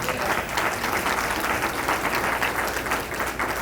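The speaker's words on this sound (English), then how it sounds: "That deserves a hand clap." A room full of guests at a sorority awards brunch claps steadily for an award recipient, dense and even, moderately loud throughout with no voices over it.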